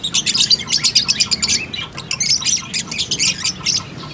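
Baby chicks chirp and squawk close by in a constant, high-pitched chorus of rapid overlapping peeps with no other sounds.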